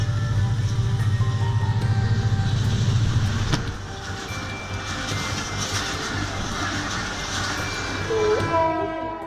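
A train races over a level crossing toward an SUV, a heavy rolling rumble under a sustained, blaring horn that holds steady and then thins out.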